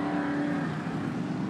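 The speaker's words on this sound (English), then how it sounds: "That's a pretty dramatic scene watching that truck come through." A race truck at a Sportsman event in Elk River, Minnesota, roars steadily past on the track with a loud, sustained engine drone and strong harmonic tone, close and continuous with no talk.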